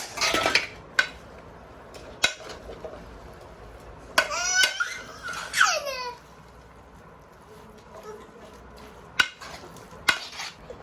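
A spoon mixes mayonnaise and ketchup into a sandwich filling in a bowl, giving scattered clinks and scraping knocks against the dish. There is a brief vocal-sounding stretch near the middle, and the rest is quiet room background.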